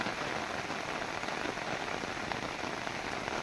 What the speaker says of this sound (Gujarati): બહુ વરસે છે વરસાદ ભાઈ